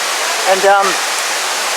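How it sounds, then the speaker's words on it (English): Steady, dense rushing of the Uadomo Waterfall in Fiji fills the clip, heard close and loud, with a brief spoken word rising over the roar partway through. "Okay, so we're at Uadomo Waterfall."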